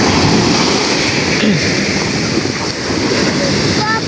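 Strong sea waves near a small fishing boat make a loud, continuous broadband wash with wind rumble, steady and close throughout.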